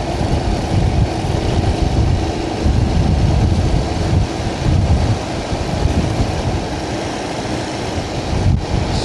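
A Honda C90 motorcycle with a new engine runs steadily while riding on a long trip, its drone largely buried under heavy wind buffeting and rushing road noise, loud and continuous.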